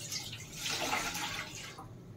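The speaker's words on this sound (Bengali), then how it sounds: "পরিমাণ মতন জলটা দিতে হবে।" Water is poured into a cooking pot on a gas stove for an ilish paturi recipe, making a brief, close, bubbling splash that swells and then tapers off, with no one speaking.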